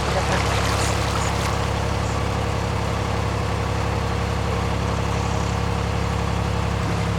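A passing narrowboat engine chugs steadily nearby on a canal with a low throbbing rumble and water swishing, loud and continuous with no voices.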